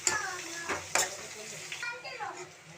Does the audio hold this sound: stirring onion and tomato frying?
yes